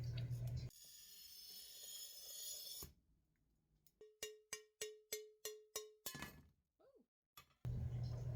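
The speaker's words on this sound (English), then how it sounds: "I score the glass and try to break it evenly with mixed results." Scored fused glass is snapped apart by hand, giving a run of about seven sharp, evenly spaced ringing clinks. Duller noises come before them and a loud burst follows.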